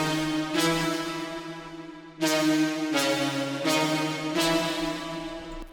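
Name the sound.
synth preset in future trance breakdown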